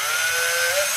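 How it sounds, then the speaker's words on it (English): A thin, flexible drill bit bores steadily into a carbon racquet frame, making a continuous high whine with a faint shifting pitch and no speech. "You don't want to push too hard because these drill bits are kind of flexible."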